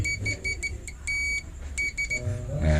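A multimeter's continuity beeper sounds in a series of short and longer electronic beeps while a motorcycle charging coil is tested, with someone speaking briefly near the end.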